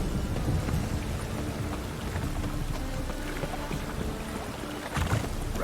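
Steady, dense rain falls throughout a scene in The Witcher 3: Wild Hunt, a continuous loud wash of droplets with low rumbling underneath and a few louder splashes toward the end.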